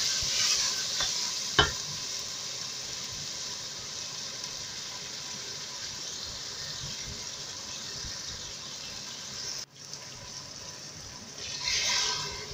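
A steady sizzle of spice paste frying in a pot for beef polao, with a spoon clink and occasional scraping stirs, close and fairly quiet.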